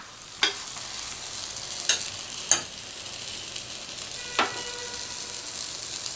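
A pudhina chapathi cooks on a hot pan after being flipped, giving a soft steady sizzle with four distinct clicks or scrapes of a spatula spaced through it.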